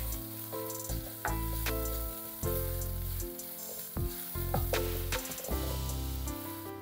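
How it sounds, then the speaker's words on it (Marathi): Spices with garam masala and turmeric are sautéed in a pan: a soft, continuous sizzle with intermittent stirring clatter, close and alone with no voices. "आता ऍड करूया हळद. परतून घेऊ आता व्यवस्थित आपण हे."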